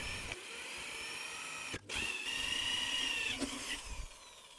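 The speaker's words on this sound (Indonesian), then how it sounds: "lanjut kita lubangi menggunakan mata bor hole saw seperti ini yang 38 mili teman-teman" A power drill fitted with a 38 mm hole saw bit whines steadily as it cuts holes, with a brief pause midway before the high-pitched drilling resumes up close.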